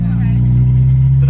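A manual car engine pulls in second gear as a steady, loud, tonal drone with a constant pitch, close by and uninterrupted over a short stretch.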